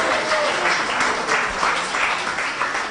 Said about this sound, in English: please give a big round of applause and a Hari Bol for all the wonderful characters